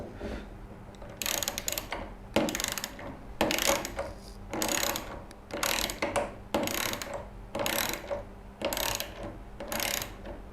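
A socket wrench ratchets in repeated bursts of quick clicking while wheels are fastened to a rolling cabinet base, with about eight roughly one-second runs separated by short pauses, close and fairly quiet.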